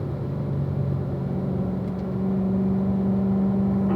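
A race car at Ron Fellows circuit accelerates out of a corner, a steady engine drone whose pitch climbs and firms up partway through, heard from inside the cabin without talk.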